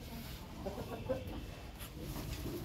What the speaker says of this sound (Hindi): इनकी इस कौं कौं की साउंड से मैं बहुत परेशान हूँ